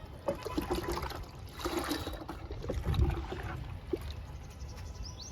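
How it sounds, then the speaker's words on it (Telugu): Liquid is poured onto a large potted sapota plant, a soft uneven splashing and trickling close by, rising and falling in small gushes. "సపోటా మొక్కకి లిక్విడ్ ఇస్తున్నా."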